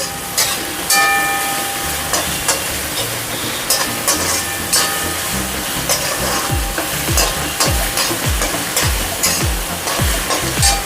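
Onions sauté in a pan for aloo poha, sizzling loudly and continuously while a spoon scrapes and stirs in repeated rhythmic strokes close by.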